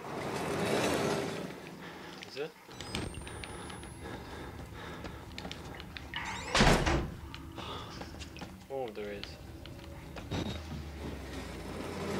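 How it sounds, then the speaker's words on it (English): Scattered heavy knocks and thuds from a door repeatedly banging in Outlast, heard as a few loud irregular impacts over a dim, uneasy background, with a person speaking between them. "there's a banging door"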